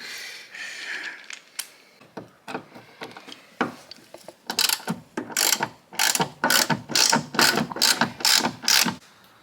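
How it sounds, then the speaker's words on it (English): A ratchet undoing a bolt on a tire carrier bracket, scattered clicks at first, then a fast run of loud rhythmic ratcheting bursts, close up, with no talk. "So that involves undoing this bolt right here."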